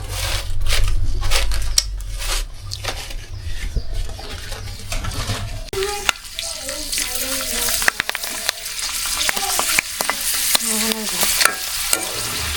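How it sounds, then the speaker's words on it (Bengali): Chips frying in very hot oil in a village kitchen, a steady loud sizzle with stirring and crackling pops throughout, close up with no talking. "আমরা এখন চিপস ভাজবো"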